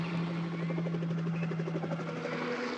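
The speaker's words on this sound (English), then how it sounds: "The helicopter pilot for local radio station KQV lets Russ Streiner ride with him to get aerial shots." A helicopter flown for the local radio station KQV, carrying a passenger for aerial filming, gives a steady, close rotor drone with a low humming tone that holds throughout, with no voices.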